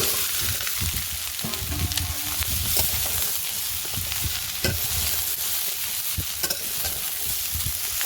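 Green chillies, onion, shrimp and taro stolons frying in a pan, a constant loud sizzle broken by scraping stirs and clatters, close up, with no talking.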